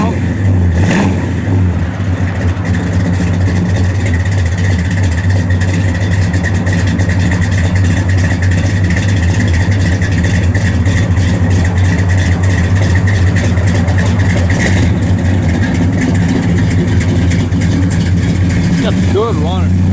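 A 1965 Pontiac GTO LeMans with a 400 engine and dual exhaust runs loud and close, a deep steady rumble with occasional revs, while someone talks over it throughout.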